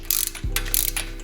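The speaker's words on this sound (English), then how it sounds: "So I'm gonna go ahead and just use this screwdriver." A ratchet screwdriver tightens wheel spacer bolts on a BMW, giving close, loud clicking strokes in a quick rhythm with a brief mechanical whirr between them.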